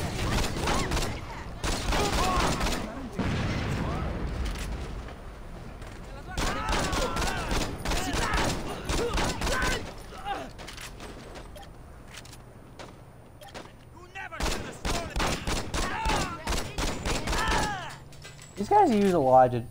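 Gunfire in the video game Saints Row comes in rapid bursts and fusillades, with quieter gaps between bursts and someone talking at times over the shooting.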